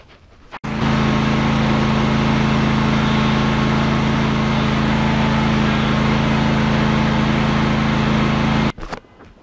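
A Craftsman YT4000 lawn tractor engine, running on a new transmission drive belt, starts abruptly and runs at a loud, steady, close drone for about eight seconds before cutting off.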